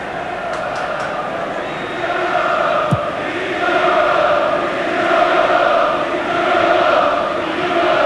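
Manchester United football crowd at the 1990 FA Cup Final against Crystal Palace, a steady swelling roar filling a large stadium, with a commentator talking over it.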